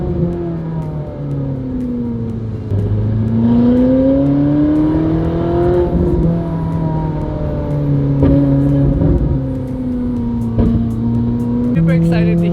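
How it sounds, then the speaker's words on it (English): A Ferrari 812 fitted with a Gintani titanium straight-pipe exhaust revs loudly and repeatedly, its pitch rising and falling through several blips in a long, continuous, close-up roar. "Super excited to hear the Gintani straight pipe exhaust for the A12."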